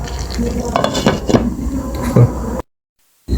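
Meat stirred and fried with spices in a pot, a spoon scraping and clinking against the metal over a steady sizzle, broken by a short silent gap near the end.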